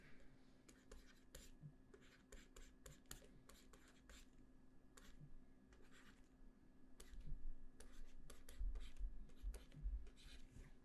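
Chalk or marker writing on a board during a math lecture on differential equations: a long run of quiet, irregular scratching strokes with short pauses between them.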